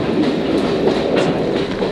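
A West Somerset Railway heritage steam train carriage rolls along at steady speed, its wheels keeping up a continuous, loud clickety-clack rumble from inside the coach, with no voices over it.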